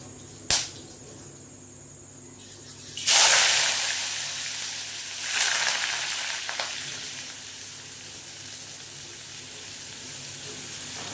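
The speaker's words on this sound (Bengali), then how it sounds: "এবার দিয়ে দেবো বন্ধুরা কুচনো পেঁয়াজ।" Chopped onion dropped into hot oil in a pan with a sudden loud sizzle that settles into a steady frying hiss, with a brief sharp clink just before and a second surge of sizzling later.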